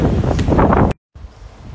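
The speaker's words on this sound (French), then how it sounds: "On se croirait en bord de mer, il y a du vent." Wind gusting across a garden outdoors, a loud buffeting rush against the microphone that cuts out briefly, then returns more softly.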